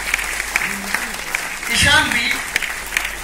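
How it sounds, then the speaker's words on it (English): An audience applauds a children's Assamese Bihu dance at a EuroKids annual day, with steady close clapping under a voice speaking over it. "keep clapping for them"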